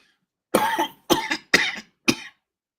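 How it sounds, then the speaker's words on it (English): A close, loud coughing fit of four harsh bursts in quick succession, each rasping and breathy, against a silent background. "Figures I would get into a coughing fit."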